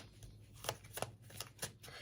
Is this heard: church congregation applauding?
no